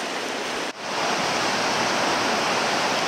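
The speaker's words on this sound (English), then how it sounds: "So this is White Falls." White Falls on the Robson River pours as a loud, constant rushing roar of falling water, with one brief dip in level before the steady noise resumes.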